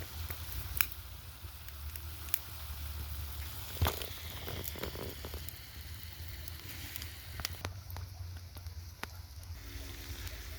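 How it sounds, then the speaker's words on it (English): Potatoes crisp in a hot pan over a wood fire, a steady close sizzle and crackle running throughout with scattered pops and faint clicks. "This is going to get nice and hot with you start crisping up these potatoes."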